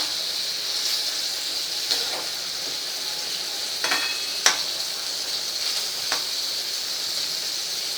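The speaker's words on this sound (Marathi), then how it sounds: "हे मोठ्या गॅसवर अशी भाजी परतून घ्यायची आहे." Vegetables sauté in a pan over a high flame, giving a steady bright sizzle with a few light stirring scrapes and clicks.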